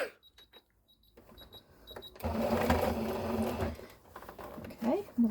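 Domestic sewing machine stitching back and forth to secure a seam on a Regency reticule: light ticking at first, then a denser whirring run in the middle, with a voice talking around it.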